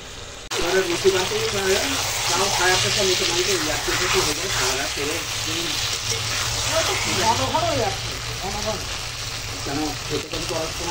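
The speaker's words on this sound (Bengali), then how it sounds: "মাংসটা অনেক টাইম কষাচ্ছি।" Spiced chicken pieces braise in a pan with a constant hissing sizzle and occasional stirring, while a person talks over the cooking throughout.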